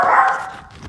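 A dog called Dougal gives a single sharp bark, close and loud, quickly fading.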